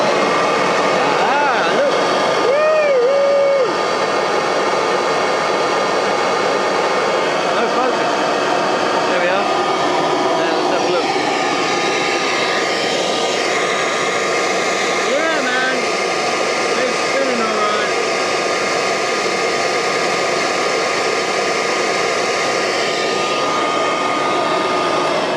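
A Kirby Legend II upright vacuum cleaner, just repaired with a fixed brush roll, runs steadily with a loud continuous whine and hum throughout, while someone talks briefly over it.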